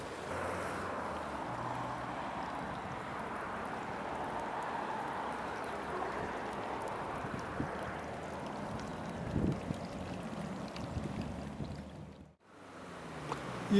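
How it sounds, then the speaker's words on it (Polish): A warm, steaming hot stream flows near Tiberias with a soft, continuous babble and wash. The sound is faint and steady and briefly drops away near the end. "Ciepły, gorący strumyk."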